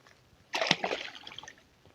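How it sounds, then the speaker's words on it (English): A small channel catfish is dropped back into lake water: a short, close splash and slosh after a quiet moment, then trickling drips fading away. "Let's get it back into the water."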